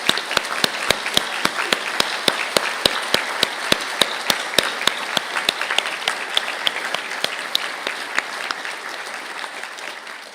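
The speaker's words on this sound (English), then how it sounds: "stand for a round of applause" Audience applause for business graduates standing at a university conferring ceremony, a steady sustained clapping from a large hall with sharp individual claps ringing out, gradually thinning toward the end.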